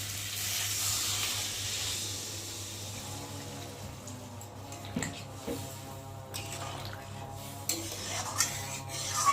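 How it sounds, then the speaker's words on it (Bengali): Water is poured into a pan of sautéed, spiced rohu fish curry with potatoes, giving a low bubbling hiss and soft sizzle with occasional clinks of a utensil against the pan, fairly quiet and close, with no talking. "আর এখন আমি এর মধ্যে জল দিয়ে দেবো।"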